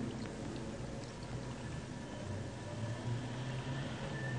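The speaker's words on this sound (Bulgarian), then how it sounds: "Не. Това е вода." Steady broadband rush of flowing water, as in a flood, continuous and moderately loud with a low rumble underneath, no voices.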